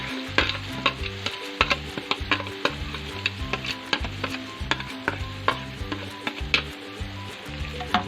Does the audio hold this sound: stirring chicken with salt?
yes